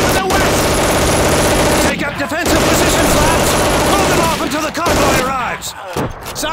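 Loud, sustained bursts of a German machine gun in the Call of Duty 2 video game, with explosions and distant battle noise, and shouted voices between bursts.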